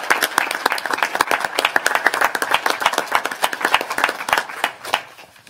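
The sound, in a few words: round of applause for campaign staff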